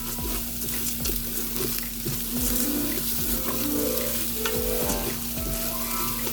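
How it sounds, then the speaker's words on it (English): Minced garlic, about one clove, sizzles in a pressure cooker pot on its sear setting, a dense, continuous crackling fry close up with scraping stirs and a faint steady hum beneath. "I'm going to put in the equivalent of like 1 good sized clove of minced garlic."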